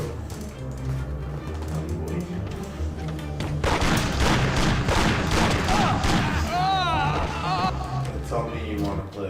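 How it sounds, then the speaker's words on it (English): Gunfire in Mafia: Definitive Edition, fired at point-blank range: a dense burst of rapid shots mixed with game music and effects, while a voice talks over much of it. "Look at me trying to shoot this guy point blank."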